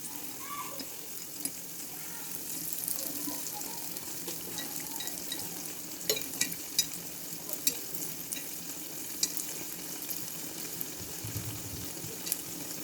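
Kuzhi paniyaram cook in a pan with a soft, steady sizzle, faint and close, with a few small crackles and pops scattered through.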